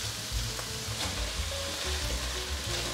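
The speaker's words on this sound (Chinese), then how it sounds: "快速的翻炒" Sugar snap peas, mushrooms and drained seaweed sizzle in an oiled wok as they are quickly stir-fried, with a steady close crackle and scraping, tossing clatter throughout.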